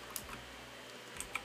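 Typing on a Razer BlackWidow Tournament Edition 2014 mechanical keyboard, a few faint, sparse key clicks with pauses between them, quiet and close, with no voices.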